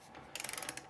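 A ratchet tightens washered wheel bolts in a quick run of about ten crisp, evenly spaced clicks, close and fairly loud over a faint background hum.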